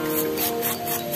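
A rough, sandpaper-like amplas hitam leaf is rubbed in several quick back-and-forth strokes, a close dry rasping scrape with no voices.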